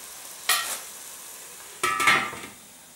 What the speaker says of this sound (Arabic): الشوربة تتقلى عندها 10 دقائق، وقعدت هكايا ساعة ساعة نحرك